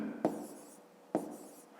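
A pen writes a math expression on paper or a board, two sharp taps at the start of strokes followed by short scratchy scribbles, close and quiet, with no talk.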